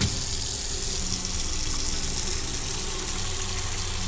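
Steady, loud rush of tap water filling a container in a forensic lab of Autopsy Simulator, a continuous unbroken gush with no pauses and no voices.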